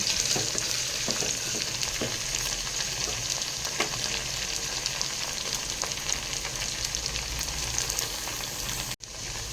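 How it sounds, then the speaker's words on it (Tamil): Onions sauté in a pan for vegetable biryani, a steady bright sizzle and crackle with faint stirring taps, cutting out briefly near the end. "வெங்காயம் வந்து நல்லா வதங்கிடுச்சு."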